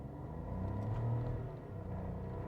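A 2026 Skoda Kushaq 1.0 accelerating hard in a 0-100 run, its engine a steady low rumble that swells briefly, heard from inside the car.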